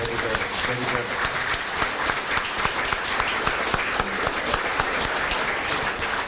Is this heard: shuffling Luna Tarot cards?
no